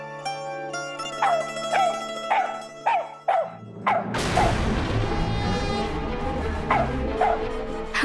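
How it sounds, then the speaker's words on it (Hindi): A dog barks in a series of sharp, separate yips over a soft harmonic musical bed, followed by a louder, busier stretch with a few more barks mixed into the dramatic background score. "अभी डॉगी अचानक भौंकने क्यों लगा?"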